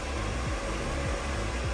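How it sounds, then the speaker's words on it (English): A hair dryer runs at mid to low speed, blow drying hair after a barber's skin fade cut, giving a steady, close whooshing hum with no pauses or voices. "Now what's left is to just blow dry and style mid to low heat."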